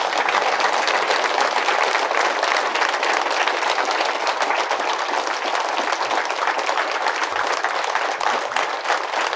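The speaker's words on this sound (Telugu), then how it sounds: "ఒకసారి గట్టిగా చప్పట్లు కొడదాం" An audience at a spiritual talk organised by the Pyramid Spiritual Trust gives loud, sustained applause, many hands clapping in a dense, even roar from start to finish.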